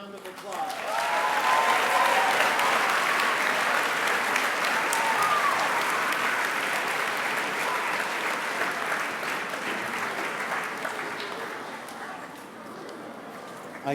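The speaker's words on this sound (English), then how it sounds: "Can we give the class of 2018 a round of applause?" Sustained audience applause fills a school assembly hall celebrating the class of 2018, a dense, even clatter of many hands that swells quickly and holds for over ten seconds before slowly tapering off.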